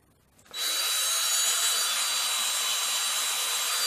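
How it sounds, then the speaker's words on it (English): A power drill bores into a piece of metal clamped down over scrap MDF, starting after a brief quiet moment and then running as a steady, loud, continuous whine with a grinding edge until the end. "I can concentrate on holding the drill and drilling vertically"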